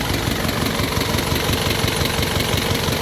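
A repaired diesel vehicle engine, formerly stalling and misfiring, idles steadily at close range with a dense, continuous rumble and no drop-outs across the whole stretch.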